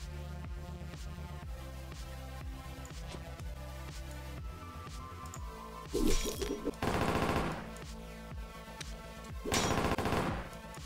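Bursts of automatic gunfire in the video game Ronin ring out over a steady game music bed, with a short volley near the middle and two longer sustained bursts later, loud and close.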